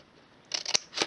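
A few crisp snips of scissors trimming a piece of card or paper in a stamping craft project, two or three close, quick cuts after a quiet lead-in.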